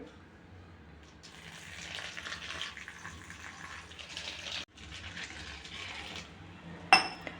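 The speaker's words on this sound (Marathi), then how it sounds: "आता ह्या मुरमुऱ्यामध्ये मी पाणी घालणार आहे।" Water pours steadily into a bowl of puffed rice for a Maharashtrian breakfast, a close, continuous splashing rush that runs for several seconds with a brief break midway and a sharp knock at the end.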